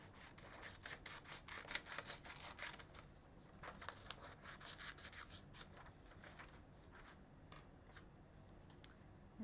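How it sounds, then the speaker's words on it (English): Scissors snip and rasp through paper to cut out a Christmas tree tracer for a painted card, a soft, quiet run of repeated small cuts with no talk. "I'll try and cut this out."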